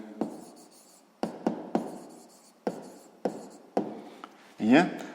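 Pen strokes scratch across paper while a sixth-grade math solution is written out, coming in short separate bursts with pauses between, and a brief voice near the end.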